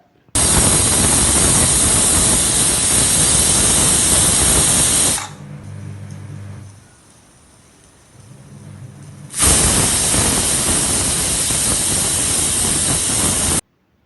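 Steam from a covered pot of spicy chicken curry hisses loudly and continuously, drops away to a quieter rumble for a few seconds, then surges back to a strong, steady hiss.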